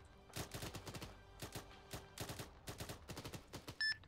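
Distant gunfire in the military simulation game Arma 3, quiet clusters of rapid shots in irregular bursts, faint and far off, with a brief electronic beep near the end.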